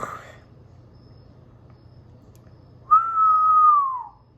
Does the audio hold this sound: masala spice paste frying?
no